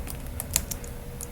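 A command being typed on a computer keyboard, with a quick run of light key clicks over about a second against a steady background hum. No one speaks.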